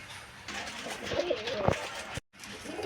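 Pet pigeons cooing close by, a few soft throaty coos rising over a quiet room, with a brief break near the end before the background resumes.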